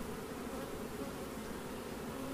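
Honey bees buzzing on a hive frame, a dense continuous drone of many insects at close range, steady and even throughout with no talking.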